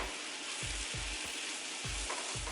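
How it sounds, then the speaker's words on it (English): Sweet potato taco filling with onions and garlic powder sizzles steadily in a frying pan, with soft rhythmic thumps of a spoon stirring roughly every half second, alone and close. "So we just can stir it now"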